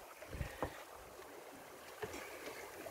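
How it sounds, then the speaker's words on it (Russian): Steady wind rushes over the microphone aboard a sailing yacht running downwind under spinnaker on the Adriatic, with a few soft thumps and gusts; no voices. "Ветер."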